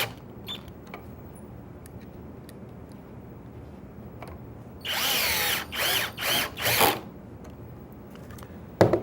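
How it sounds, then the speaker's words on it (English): A power driver sinks pocket hole screws into a clamped wood joint on a workbench, giving a loud whirring burst of about two seconds followed by several short pulses, after quiet room tone. "And then with another driver, drive the screws home."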